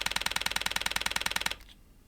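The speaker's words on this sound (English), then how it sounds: "the A1 II's mechanical shutter can fire at up to 10 frames per second, and it sounds like this." Mechanical shutter of a Sony A1 II camera firing a continuous burst at 10 frames per second: a close, crisp run of evenly spaced clicks lasting about a second and a half, then stopping, with no talk.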